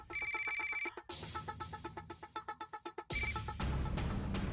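An electronic phone ringtone plays in bursts, a bright trilling tone that pauses mid-clip for a run of rapid pulsing beeps, then resumes loudly with a noisy wash behind it, no voices heard.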